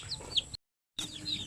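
Newly hatched chicks peeping in short high chirps, a few close calls before and after a brief gap of silence, fairly faint, no talking.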